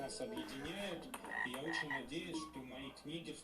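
Repeated frog croaks from a teacher-pranking video game, rhythmic and bouncy, playing steadily with no talking.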